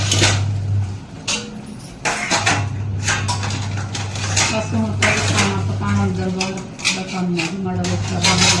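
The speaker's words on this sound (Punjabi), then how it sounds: "ਆਪਣੇ ਸਵੇਰ ਵਾਲੇ ਭਾਂਡੇ ਸੀ ਇਹ ਨੁੱਚੜ ਗਏ ਜੀ" Washed steel dishes and cutlery that had been draining since morning clatter and clink repeatedly up close in a home kitchen, with a low steady hum beneath.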